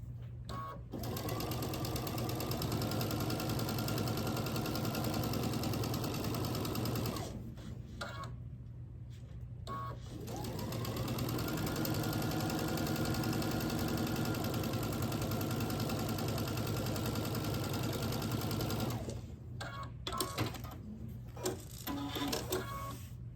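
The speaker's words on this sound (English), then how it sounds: "line them up, take them to the sewing machine" A sewing machine stitches quilt strips cut from a jelly roll in two long, fast runs, a close, rapid steady chatter that stops briefly between bursts, then ends with a few short clicks and handling sounds, with no talking.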